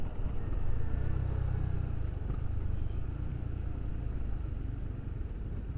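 A motorcycle with a V-twin 250 cc engine rumbles steadily at night on a Jakarta street, a continuous low engine drone close by with no distinct pass-by swell.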